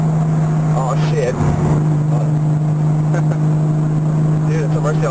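A Lamborghini Murcielago engine drones loud and steady throughout, a constant low hum with a brief surge near the start, close to the listener.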